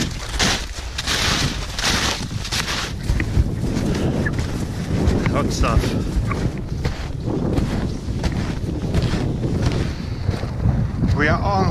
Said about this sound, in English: A cold wind has come up now